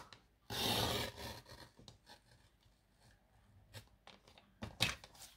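Card paper is sliced with a paper trimmer while a handmade greeting card is being made. One quiet, rasping cut is followed by soft clicks and handling noises.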